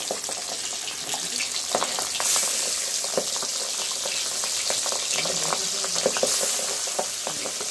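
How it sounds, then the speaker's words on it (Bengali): Pabda fish sizzle and crackle in hot oil in a home kitchen pan for a mustard pabda dish, giving a steady frying hiss with scattered pops and spatters and no talking. "এইবার এক এক করে পাবদা মাছগুলো দিয়ে দিচ্ছি।"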